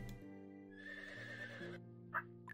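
Horse in the Settlement Survival video game gives a clear whinny, a rising then sustained neigh with a brief sharp sound near the end, alone without talk.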